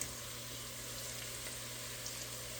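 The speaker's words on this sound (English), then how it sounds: "These will fry it really quick." Tortilla triangles fry in hot oil for Italian nachos, giving a soft, steady sizzle that stays even and fairly faint throughout.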